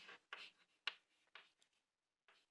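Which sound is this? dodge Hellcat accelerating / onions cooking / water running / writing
writing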